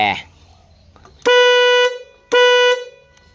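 Two loud blasts of the snail-type horn on a Kubota L1801 tractor, each about half a second, following a brief spoken word at the start.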